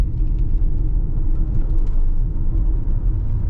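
A 2024 Ford Mustang Mach-E Select, rear-wheel drive with a roughly 200 kW electric motor, taken under power through a tight corner: a steady, loud low rumble of road and drivetrain noise with a faint whir above it and no talking.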